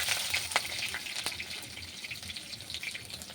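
Onion sizzles steadily in hot oil with panch phoron, a soft, even crackling hiss with a few sharper pops, fairly quiet and without talk.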